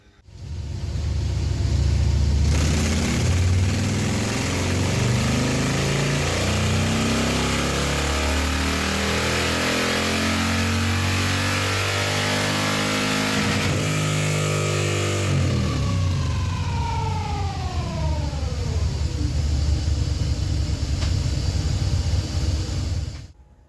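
A motorcycle engine fitted with a 30-30 cam roars continuously on a dyno during tuning, holding loud steady revs for a long stretch, then rising in pitch through a sweep before cutting off abruptly.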